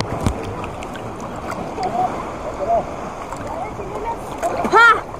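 Water sloshes and splashes continuously around a small boat swamped by strong waves, with excited shouting voices and a brief whistle-like squeal near the end.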